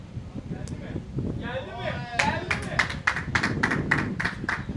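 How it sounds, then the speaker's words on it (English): Spectators at a FootGolf world championship clap in a run of sharp, distinct claps, while a commentator talks over the opening seconds. "it's great hearing the applause."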